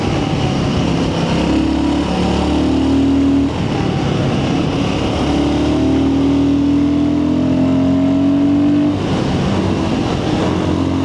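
A Royal Enfield Guerrilla 450 motorcycle engine revs up and down while riding, its loud, steady drone rising in pitch in repeated pulls over wind noise.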